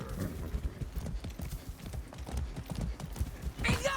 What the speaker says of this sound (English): Let's ride the horse. Easy now, easy.